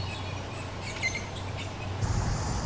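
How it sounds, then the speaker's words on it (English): Young yellow-bellied sapsucker nestlings call from a nest cavity inside a tree, giving faint high chirps and squeaky notes over a steady low background hum, with no voices. "Can you hear its baby birds calling from their nest inside the tree?"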